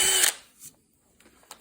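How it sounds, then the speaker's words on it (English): A power drill bores a 1/8 inch pilot hole into wood, ahead of fitting a threaded insert for machine screws. One loud, close burst of drilling lasts about a third of a second, then faint scrapes and taps follow. "start out with an 1/8 inch pilot hole"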